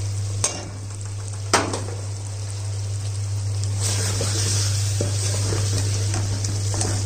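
Dry-fried gram flour is stirred into sizzling potatoes in a handi, with a constant close frying hiss, a couple of sharp spoon knocks early on, and soft scraping over a low steady hum.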